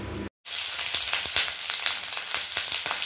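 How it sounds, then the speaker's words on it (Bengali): Bean pods, spring onions and carrots fry for a Bengali chochchori in a pan, a steady close sizzle with crackling pops after a brief silent break at the start. "রান্না বসিয়ে দিলাম। এখানে করছি সিম, পেঁয়াজকলি, গাজর, আলুটা এখনো দিইনি, দিয়ে একটা চচ্চড়ি।"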